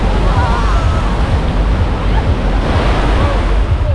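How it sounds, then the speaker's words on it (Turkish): Big ocean waves crash and roll onto the shore in a loud, continuous roar, heavy with wind buffeting the microphone, no voices. "bayağı büyük dalgalar"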